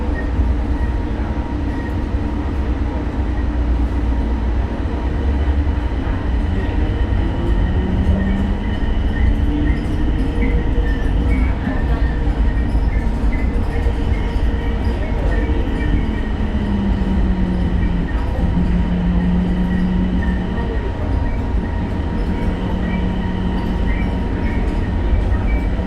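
A Bangkok BTS Gold Line train rolls along during an evening ride, heard from inside the car as a steady loud rumble with hum and faint wheel squeal.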